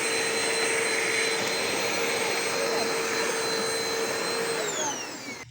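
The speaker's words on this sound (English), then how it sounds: "Vacuuming up grass" Vacuum cleaner sucking up grass outdoors, a loud, steady whining roar that holds throughout and winds down in pitch at the end.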